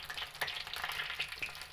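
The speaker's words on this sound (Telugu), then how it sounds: "ఫ్రై అయిపోయి తీస్తున్నాను చూడండి." Potato chips fry in hot oil with a steady, dense sizzle and crackle, close and moderately loud. Occasional stirring clinks and pops break through the bubbling.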